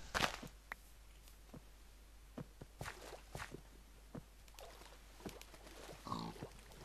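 Faint pig grunts and oinks from Minecraft pigs near a small pool, scattered among soft footstep clicks and quiet game noises, with no talking.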